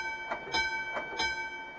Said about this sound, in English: if you actually listen, you'll count how many times the bell rings. That's how many times it puts a punch in the paper